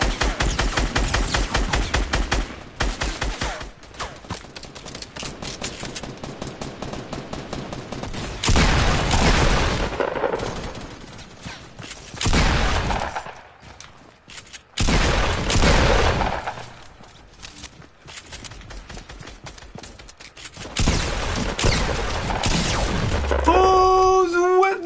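Gunfire in the video game Fortnite: repeated bursts of rapid automatic shots and loud volleys come and go across the clip, with short quieter gaps between the bursts.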